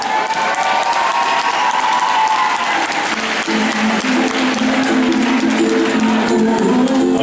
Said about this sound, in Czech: v žádném případě nešetřete potleskem a pojďte přivítat maturanti a jejich přetančení třída S4B